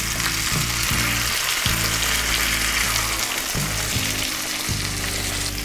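Steady, loud sizzling and crackling of a breaded pork cutlet frying in a hot pan at half heat, continuous throughout with a low background hum.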